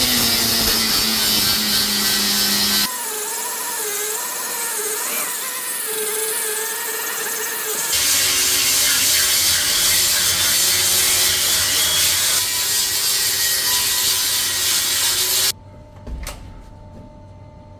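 A cordless grinder fitted with a 3M Cubitron abrasive disc grinds a rusty pipe on an emergency leak callout, giving a loud, continuous, harsh scraping whine that shifts pitch with load and cuts out near the end.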